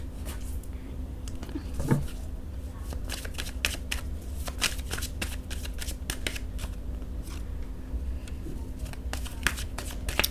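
Tarot cards are shuffled and shifted across a surface in a quick, close run of crisp riffles, flicks and slides, with some soft clatter.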